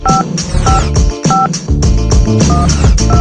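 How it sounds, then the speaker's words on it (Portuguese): Telephone keypad dialing tones, a quick series of loud, evenly spaced DTMF beeps sounding alone with no talk. "O telefone."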